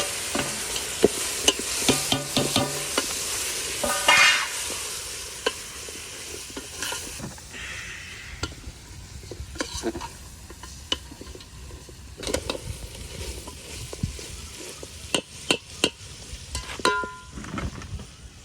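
Country chicken curry masala fries in a pot while a spoon stirs it, loud metallic scrapes and knocks coming in irregular bursts over a continuous sizzle, close and with no voices.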